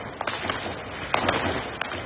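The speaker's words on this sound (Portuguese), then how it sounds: "quase o tempo todo, com esse som de tiros" Gunfire crackles across the dense hillside houses of Complexo da Penha in Rio de Janeiro, scattered distant pops and sharp reports at irregular intervals over a low background rumble.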